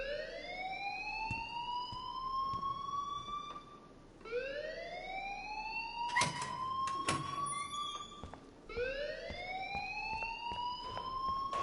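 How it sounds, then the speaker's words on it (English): Alarm in the video game Life is Strange, rising siren-like wails repeating in three long sweeps, fairly faint, with a few clattering sounds in between. "please turn off that alarm since that's your job"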